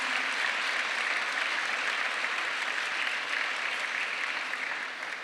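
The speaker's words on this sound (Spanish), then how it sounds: "Dale un aplauso al Señor." A church congregation applauds during a sermon, a broad, even wash of many hands clapping that holds steady for several seconds before easing slightly at the end.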